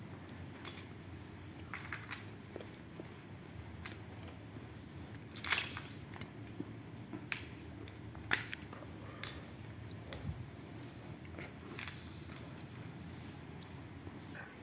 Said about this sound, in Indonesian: Dia sambil ngunyah teman-teman.